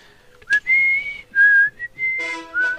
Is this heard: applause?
no